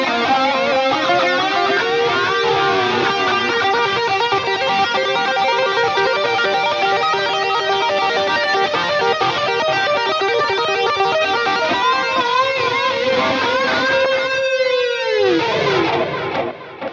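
Electric guitar lead tone from scene 3 of a Headrush MX5 preset, a loud sustained melodic line with bends and held notes played continuously, ending in a swooping pitch drop before cutting off.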